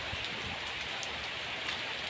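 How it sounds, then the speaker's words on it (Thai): Steady rain falls and patters on surfaces, a dense, continuous hiss with no voices over it. "อันนี้มาพร้อมน้ำฝนเลยครับ"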